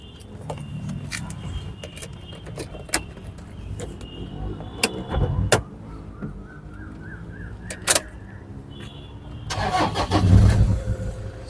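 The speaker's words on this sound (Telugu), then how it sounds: "సింగిల్ సెల్ఫ్లో స్టార్ట్ అయింది సార్." 2011 Toyota Innova 2.4 G being started, with sharp clicks and key jingles first, then a single crank and the mid-pitched engine catching and idling, rising near the end; a voice speaks briefly.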